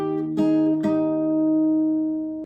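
An acoustic guitar plays a chord riff at full tempo: two quick strummed or plucked attacks, then a long ringing chord that fades before a brief final touch. Close and clean, with no voices.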